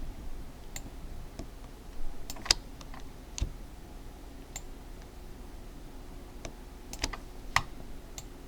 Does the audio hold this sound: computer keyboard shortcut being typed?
yes